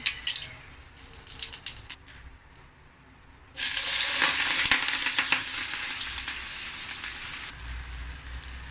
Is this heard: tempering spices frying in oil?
yes